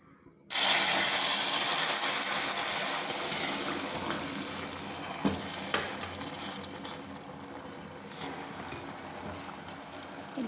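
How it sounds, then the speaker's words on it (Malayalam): Water poured into browned, caramelized sugar in a pan for payasam, an abrupt loud hiss and bubbling sizzle that starts suddenly and then slowly settles, with a few sharp pops and no talking. "ഇനി നമുക്ക് ഇതിലേക്ക് വെള്ളം ഒഴിച്ചൊന്ന് അലിയിപ്പിക്കണം വെള്ളം ഒഴിക്കുക"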